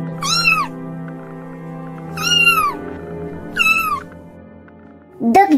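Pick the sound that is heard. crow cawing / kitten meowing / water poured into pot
kitten meowing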